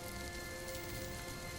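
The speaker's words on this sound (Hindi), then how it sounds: "बारिश की तेज बौछारें गाड़ी की छत पर पड़ रही थीं" Heavy rain pounds steadily on a car roof, a dense, continuous drumming wash that stays loud and close throughout with no voices.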